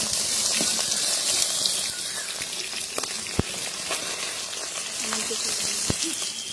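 Fish fries in oil in a pan, hissing and sizzling steadily, with a few sharp pops and crackles breaking through the constant frying noise.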